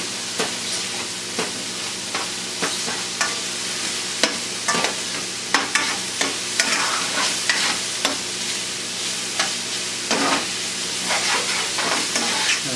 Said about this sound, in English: This cooks the moisture out of the nopales, and it also finishes cooking the nopales because they had a little ways to go.